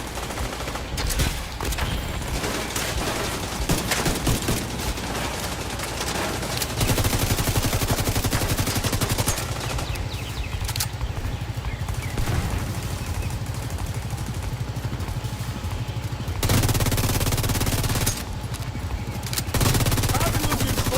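Sustained automatic gunfire in The Division 2 fills the scene, loud and continuous with dense overlapping shots and brief lulls, under occasional talk.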